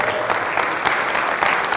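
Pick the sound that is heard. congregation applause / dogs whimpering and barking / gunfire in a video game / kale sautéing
congregation applause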